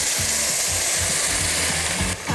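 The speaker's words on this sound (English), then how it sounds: "always going in on the side of the pan, and then the chopped tomato." Red chili powder and chopped tomato hit a hot frying pan with a loud, steady sizzle and crackle that fills the whole short moment, close up with no talking.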